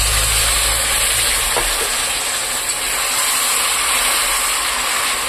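Hot water poured into a hot pan holding sugar gives a loud, steady hiss and sizzle from start to finish, with a faint clink partway through and no one speaking.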